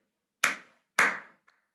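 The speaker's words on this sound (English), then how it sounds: "I clap 3 times." Hands clap in a quiet room: two sharp, close, loud claps about half a second apart, then a much fainter, shorter third clap.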